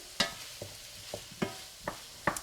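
A vegetable hash is stirred in a frying pan, soft sizzling under a series of about six spaced utensil scrapes and taps against the pan, close but fairly quiet, with no talking.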